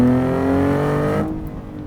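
A Nissan 370Z NISMO engine revs high with steady harmonic tones, then the revs drop off slowly as the throttle is released, fading into a lower idle hum.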